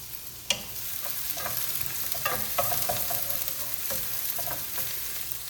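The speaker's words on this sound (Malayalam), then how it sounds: "നമ്മുടെ ഇഞ്ചിയും വെളുത്തുള്ളിയും വഴന്നു വരുമ്പം" Ginger and garlic sauté in a pan for a salmon fish curry, giving a continuous soft sizzle punctuated by several sharp scrapes and taps of a spoon stirring, close up with no voices.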